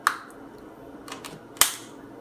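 A plastic cap pressed back onto a Ford key fob for a Fusion or Escape, a few small clicks ending in one sharp snap, close and crisp.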